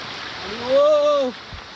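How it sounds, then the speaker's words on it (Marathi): A stream running strong and swollen in the monsoon gives a steady, close rushing wash, with a short drawn-out voice rising over it near the middle. "पाण्याला फ्लो जास्त आहे कारण पावसाळा आहे"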